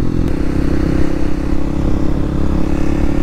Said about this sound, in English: that's like a moped or something crazy